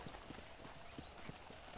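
Horse hooves clip-clop in steady, evenly spaced beats during a ride in the video game Red Dead Redemption, heard close and moderately quiet over a constant game background with no speech.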